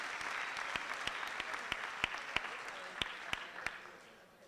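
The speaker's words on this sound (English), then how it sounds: "Let's give a big round of applause to" A graduation ceremony audience gives a round of applause, a fairly distant, even patter of many hands with a few crisp nearby claps, gradually thinning toward the end.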